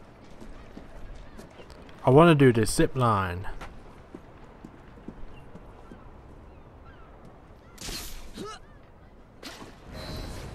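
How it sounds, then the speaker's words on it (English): Hooves of a runaway horse in Assassin's Creed Syndicate clip-clop in a steady rhythm beneath game sounds and someone speaking, with a loud burst of horse or goose-like honking early on. "Runaway horse"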